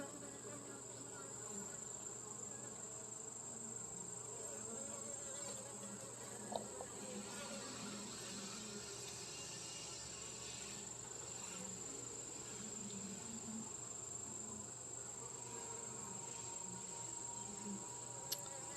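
Honey bees droning steadily around an open hive during a farm inspection, a faint, continuous low buzz with a thin high whine, with brief soft knocks and no talk.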